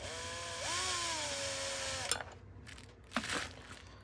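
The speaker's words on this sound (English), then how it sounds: "Unscrew those screws." A power screwdriver backs screws out of the fascia plate on an NCE DCC Power Cab. A close, steady motor whine rises in pitch, runs for about two seconds and stops, followed by small clicks and handling noises.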